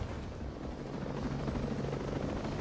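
Military helicopter in the Ghost Recon Breakpoint video game, a steady loud rotor drone with deep thumping blade chop that continues unbroken throughout, with no other sounds over it.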